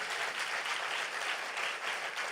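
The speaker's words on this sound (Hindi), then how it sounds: "ताली बजा के जोरदार प्रभु को धन्यवाद दीजिए।" A church youth camp congregation applauds together, a fairly faint, steady wash of many hands clapping throughout.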